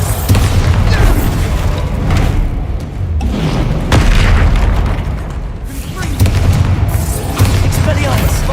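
Bombarda spell explosions in a Harry Potter video game burst as loud booms in a rapid sequence, several heavy blasts spaced a second or two apart, with a voice shouting between them.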